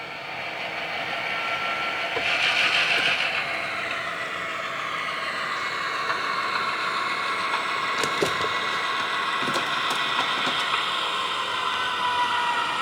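A model train locomotive rumbles steadily along its layout track with a continuous mechanical hum and faint clicking wheels, running alone at a moderate, even level.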